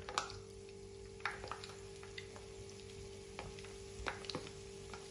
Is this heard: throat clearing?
no